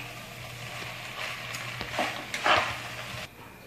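Cooked wheat spaghetti tossed and stirred in a big pot over a high flame, with a low sizzle under intermittent scraping and clattering strokes close by.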